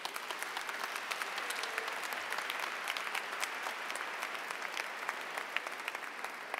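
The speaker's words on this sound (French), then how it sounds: "Applaudissons pour eux." A church congregation applauds at a Sunday Mass of the seventh Sunday of Easter in a steady, even wash of many hands clapping, heard at a moderate distance and sustained throughout.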